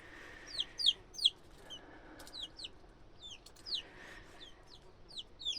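Mini hen brooding a clutch of 28 eggs gives soft, close clucks and chirpy calls in irregular bursts over a quiet background.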